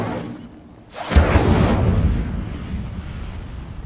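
An Incendio fire spell is cast in Hogwarts Legacy: after a quiet moment, a sudden loud whooshing burst of flame erupts and then roars and fades gradually over a few seconds.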